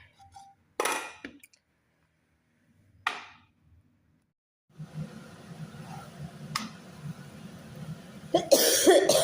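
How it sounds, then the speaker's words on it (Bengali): A woman coughing at home, with a few separate sharp coughs spaced apart over quiet, then a low background rumble and clattering toward the end. "এত কাশি হয়েছে ওষুধ খাইতেছি তা কমে না"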